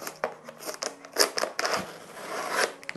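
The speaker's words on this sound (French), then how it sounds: "ça a déchiré le sachet" A pre-workout gel sachet torn open by hand, with sharp crinkly plastic crackles and rips in irregular bursts, close and loud, with no talking.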